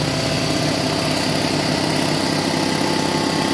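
A Porter Cable 60-gallon 240-volt air compressor runs with a steady, loud mechanical drone and dense hum that stays even throughout, alone without talk.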